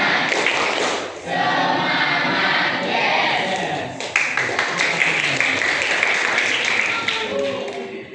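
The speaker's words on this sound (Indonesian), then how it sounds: "kita mulai 3 kali tepuk semangat" A group performs the 'tepuk semangat' rhythmic clapping chant three times in a morning lesson, with patterned bursts of claps and taps mixed with chanted voices, loud and continuous throughout.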